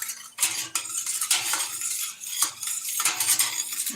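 A spoon stirring a spiced drink with bay leaf and aniseed, repeated close clinking and swishing strokes against the vessel in a loose rhythm, no talk.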